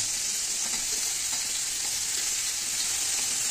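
Shrimp fry in hot oil with a steady, even sizzle that stays close and constant throughout, with no voices over it.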